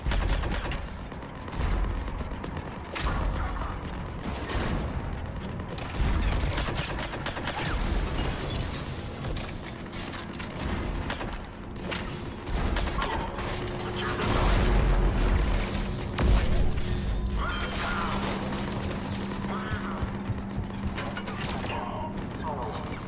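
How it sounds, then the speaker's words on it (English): Heavy cannons and weapons fire in Mass Effect 3 Legendary Edition, a dense, loud barrage of booms and rattling bursts with mechanical clanks, continuing throughout beneath character dialogue and game music. "Cannons engaged."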